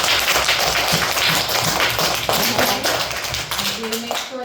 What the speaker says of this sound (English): Will we give Miss Lana a big round of applause?